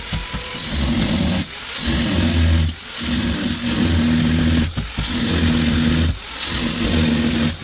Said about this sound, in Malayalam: നമ്മൾ സാധാ ഗ്രൈൻഡർ ആയിട്ട് മുകളിലും താഴെ കൂടി ഒന്ന് വെച്ചെടുത്തപ്പോൾ തന്നെ അത് പൊട്ടിപ്പോന്ന്